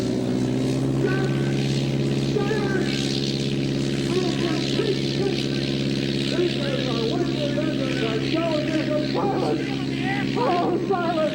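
A small airplane's engine drones steadily with a strong, even hum throughout, at an air show flying circus, while voices talk and shout over it.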